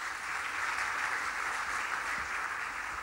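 Steady, dense applause from an audience at a business convention session in Mumbai, loud and sustained for the whole stretch with no break.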